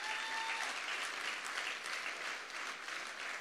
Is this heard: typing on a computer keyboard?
no